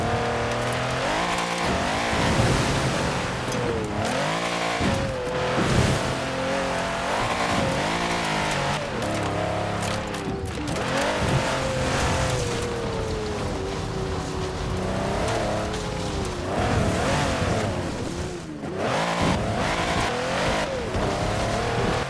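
A 6x6 off-road vehicle drives and revs hard, its engine note repeatedly rising and falling through loud, close sweeps with rough tire and terrain noise underneath.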